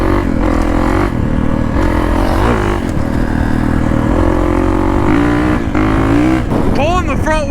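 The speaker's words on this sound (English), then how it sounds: "This is literally just the idle of a 450 and we're going like so fast." A 450 dirt bike engine runs at idle while the bike is ridden fast, giving a loud, constant engine drone with wind rush and a rider's voice talking over it throughout.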